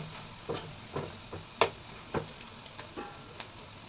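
Onion pakodi frying in hot oil while being stirred, a steady low sizzle broken by several sharp scraping and clinking stirring knocks spaced through the stretch, close and fairly quiet.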